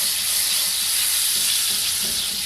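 Browned butter sizzles loudly and steadily in a pan that is slightly too hot, a dense, continuous frying hiss with faint stirring scrapes and no talk.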